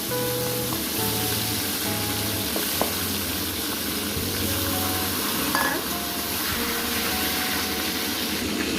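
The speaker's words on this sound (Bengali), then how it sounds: "তেল আমার গরম হয়ে গেছে দিয়ে দেবো মাছের মাথা" Katla fish head frying in hot oil in a home kitchen, a steady crackling sizzle throughout with a low background hum and no talking.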